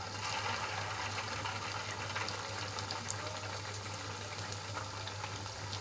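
Semolina and raw potato snack pieces frying in warm oil in a kadai, a continuous bubbling sizzle with occasional sharp pops, steady and close, with no voices.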